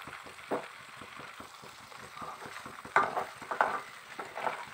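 Butter melting down into ghee in a pan gives off a soft, steady sizzle and crackle, with a few louder spattering pops near the middle and end.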